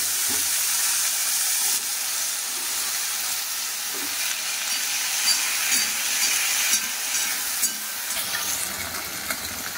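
Okra frying in hot oil with curry leaves and dried chillies, a loud continuous sizzle with crackles and spits throughout, close and steady with no talking.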